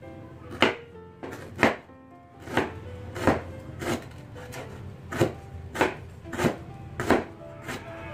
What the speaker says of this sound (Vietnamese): Rồi với cái phần sả này mình sẽ cắt ra trước khi mình cho vô máy.